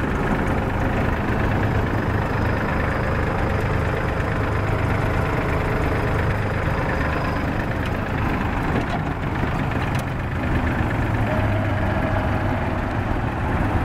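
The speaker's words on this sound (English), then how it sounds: "Nice little tractor there." A small tractor engine idles steadily and close by, a constant low rumble with a faint knock and no change in pace throughout.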